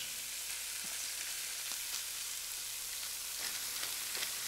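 Food browning in a hot pan gives a steady close sizzle and crackle, with occasional soft stirring or turning clicks and no voices.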